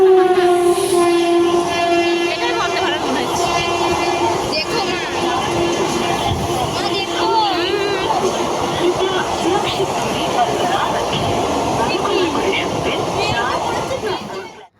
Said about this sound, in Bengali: আর আমরা এখন ট্রেনে আছি